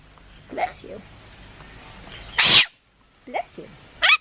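A baby animal gives one loud, abrupt sneeze, with smaller snorting sniffles before and after it and a voice murmuring faintly nearby.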